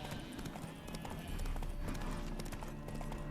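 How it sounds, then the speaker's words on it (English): Horse hooves clopping in The Witcher 3: Wild Hunt, Hearts of Stone expansion on PS5, a steady run of close, loud hoofbeats with game ambience underneath. "Spooking my horse."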